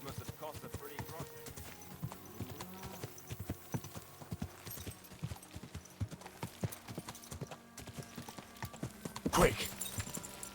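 Horse hooves clip-clop steadily in the medieval role-playing game Kingdom Come: Deliverance II, a rhythmic trotting close by, with a louder burst near the end and a voice speaking over the hoofbeats.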